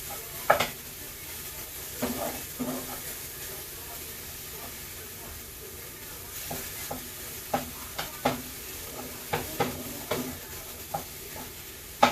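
Ground beef seasoned with garlic, adobo and onion powder sizzles steadily in a pan, broken by repeated scraping clicks of a spoon stirring the meat at an uneven rhythm.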